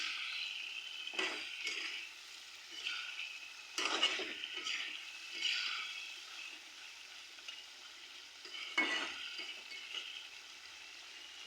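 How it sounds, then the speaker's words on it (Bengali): Pre-fried meat being turned in a pot, a soft background sizzle with a few distinct scraping stirs of a spoon against the pot, fairly quiet and close, with no talking. "এরপরে আমি দিয়ে দেবো ভেজে রাখা মাংসগুলো। ব্যাস, ভালো করে নেড়ে চেড়ে নেব।"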